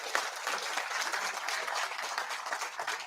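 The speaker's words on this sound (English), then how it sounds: "Time to clap, to get crazy behind the scene." Audience applauding at a React developer conference in Norway, a steady, dense wash of many hands clapping throughout, sustained and even with no pauses.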